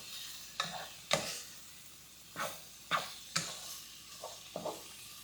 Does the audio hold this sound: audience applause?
no